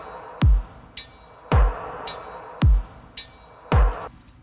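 An electronic dungeonstep rhythm pattern in which a booming kick sits under each clap, four heavy combined hits spaced evenly, with lighter high hits between them over a dark, hissy pad.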